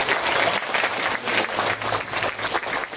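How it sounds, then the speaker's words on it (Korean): A church congregation at a children's revival service claps in thanks, dense continuous applause from a full room with little speech. "우리 하나님께 감사의 박수를 한번 드리겠습니다"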